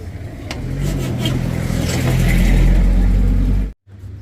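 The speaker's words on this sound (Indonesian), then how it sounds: "Oh, truk tangki balap." A smoking Hino tanker truck labours up a hill at Bukit Kodok, its engine roaring loud and close in a steady, sustained rev that cuts off abruptly near the end before resuming briefly.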